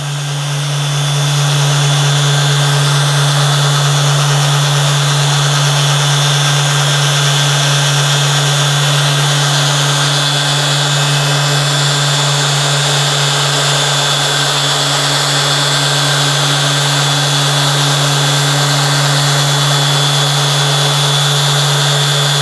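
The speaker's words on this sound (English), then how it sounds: "This is the slow part, and I'm pushing down quite substantially on the sander." A Festool orbital sander is pressed down hard on a wooden bench, giving a steady, loud, continuous whine and hum that holds unbroken throughout.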